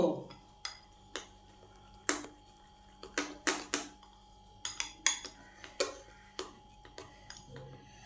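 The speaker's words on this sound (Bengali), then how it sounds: "ভালো করে গোটা সুজিটাতে বেকিং পাউডারটাকে মিশিয়ে দেব" Baking powder being mixed into semolina in a bowl: a string of sharp clinks and taps of a spoon against the bowl, irregular and close, over a quiet background.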